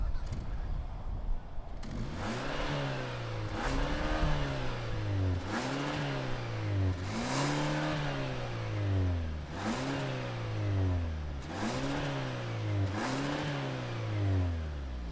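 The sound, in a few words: sport sedan engine starting and revving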